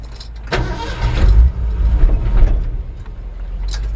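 A 1965 Ford F100 pickup with a 302 V8 engine drives off, its engine rumbling loud and close with a deep, throaty tone that swells and eases as it gets under way.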